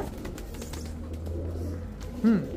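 A single soft coo from a Kaldom pigeon rises near the end over a low background hum and faint scattered noise.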